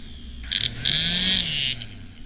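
Small DC motor driven by an Arduino whirs up in bursts with a high-pitched electric whine, spinning briefly, pausing, then running longer before winding down, close and fairly loud.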